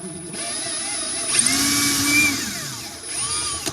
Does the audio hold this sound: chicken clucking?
no